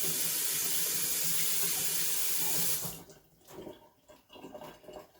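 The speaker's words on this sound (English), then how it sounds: "So now I'm gonna wash my hands again." Hands washed under a running kitchen sink tap while preparing Jamaican curry shrimp: a steady, close gush of water for almost three seconds, then the flow stops and only soft splashes and handling noises remain.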